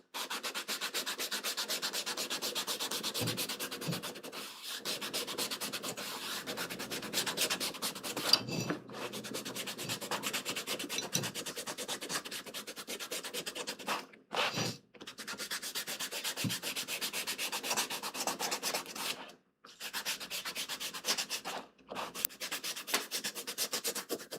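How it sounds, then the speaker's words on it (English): Sandpaper rubs steadily over chrome tan leather being shaped into a mousepad, a continuous raspy scrubbing broken only by a few short pauses. "We're going to sand."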